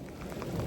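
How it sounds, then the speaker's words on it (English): Rain and thunder during a thunderstorm on a hiking trail, a brief dense wash of rain with a low rumbling swell building underneath. "I just heard thunder. It's been sprinkling for about an hour now, so it's not surprising to hear thunder."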